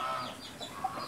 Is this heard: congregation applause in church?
no